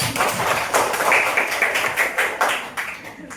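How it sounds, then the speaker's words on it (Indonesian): A small group claps in rhythmic bursts during a classroom lesson, distinct near slaps repeating at an even pace with slight thuds, loud and close. "Beri tepuk tangan kita."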